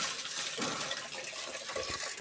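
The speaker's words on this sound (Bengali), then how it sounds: "ডালটাকে ধুয়ে নেব।" Water splashes and swirls as lentils (dal) are rinsed by hand, a soft close sloshing with small bursts of trickling liquid throughout.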